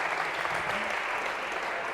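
A lecture audience applauds in a steady, dense wash of clapping that fills the whole moment at an even level, with no single claps standing out.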